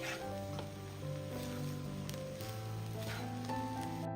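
Soya rice with coriander leaves is stirred and mixed in a hot pan, giving a faint, steady low sizzle with quiet scraping, and no voices.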